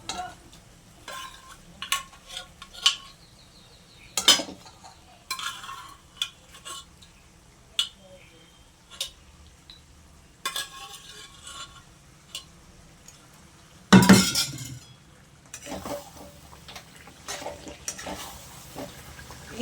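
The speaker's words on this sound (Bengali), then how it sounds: "এবার আমি এক এক করে মাংসগুলো দিব।" Mutton pieces dropped one by one into a cooking pot with ginger, garlic, onion and spices, giving faint scattered clicks and soft sizzles, with a louder clatter near the end.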